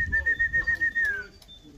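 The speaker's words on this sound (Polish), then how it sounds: "tu mamy kolejne gołębie, zobaczcie hodowcy." Racing pigeons coo in a rhythmic series of low pulses inside a loft, close and fairly loud, with a sustained whistle-like tone on top.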